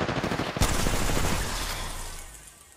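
Gunfire in Apex Legends cracks with a loud sharp shot, followed by a dense, rumbling wash of further shots and battle noise that slowly fades.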